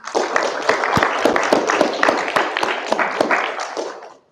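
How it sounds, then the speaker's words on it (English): A student senate audience breaks into applause after a senator's name is read out, dense clapping from many hands sustained for about four seconds before it stops abruptly. "you guys can applaud after each name if you want"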